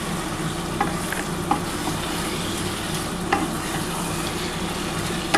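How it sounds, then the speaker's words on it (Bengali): Spices and duck egg curry with potato being stir-fried in a pan, a steady close sizzle with scattered scraping clicks of a spatula across about five seconds. "ভীষণ ভালো করে কষাতে হবে, যাতে ডিমের মধ্যে মশলাটা ভালোভাবে ঢোকে।"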